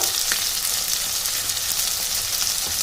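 Tomato with cumin and coriander powder fries and is stirred in a pan for a small-batch biryani, a steady bright sizzle with faint scraping throughout, no voices.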